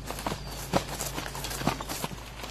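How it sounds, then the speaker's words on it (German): Hooves of a ridden horse clip-clop at a slow walking pace over a low rumble of background noise, moderately close and fairly quiet. "wenn Lebensgefährtin Ute auf dem Pferd ausreitet"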